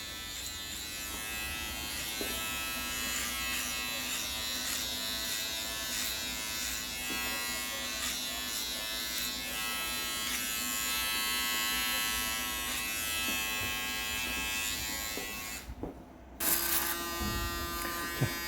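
Electric hair clippers buzz continuously while cutting a short sports haircut, a close, steady motor hum with slight shifts as the blades move through hair, briefly dropping out near the end before resuming, with no talk.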